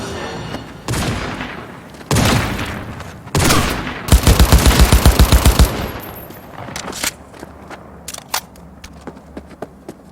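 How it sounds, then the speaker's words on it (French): Gun turret firing in the Cyberpunk 2077 video game, with heavy gunshots and booms followed by a rapid burst of automatic fire, then scattered lighter shots fading out. "Fais gaffe à la tourelle!"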